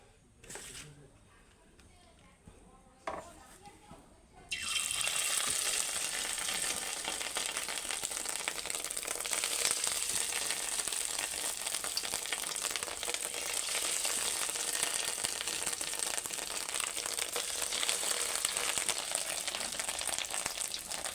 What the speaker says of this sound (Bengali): তেলটা আমার তেতে গেছে এবার এক এক করে বড়াগুলো দিয়ে দেবো